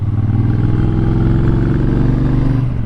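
A bobber motorcycle fitted with a Booster plug runs steadily on a ride, its engine giving a loud, continuous low throb with a mid-range rumble and a faint rev rise near the end.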